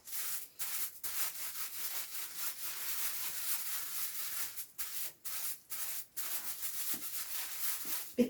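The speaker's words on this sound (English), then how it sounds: "the best thing I've found is an old pair of socks, and if you just rub over your shape" An old sock rubbed over a tin foil craft shape, giving a steady, close scrubbing and rustling with short pauses between strokes.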